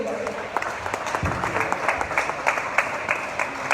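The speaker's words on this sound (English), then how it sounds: "Please put your hands together for Honorable Dr. Mrs. Lola Akonde." An audience at the closing ceremony of the Lagos International Trade Fair applauds for a commissioner. The clapping is moderately loud and continuous, with a crowd murmuring underneath and a voice partly audible.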